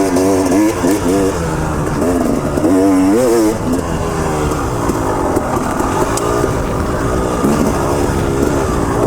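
A KTM 300 enduro two-stroke dirt bike engine revs loud and close, rising and falling in pitch through repeated throttle blips before settling into a steady, buzzing run.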